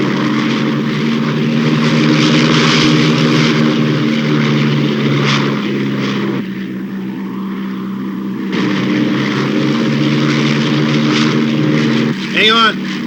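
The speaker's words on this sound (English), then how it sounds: "Hey, Walt, look at those guys. Why don't we just follow them? Stunt flyers" Propeller aircraft of stunt flyers droning overhead, a loud, steady engine hum with rich harmonics that eases slightly midway before swelling again and fading near the end.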